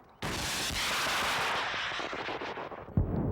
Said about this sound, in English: Their main weapon, the Milan anti-tank missile, which they've been firing since the day after they arrived.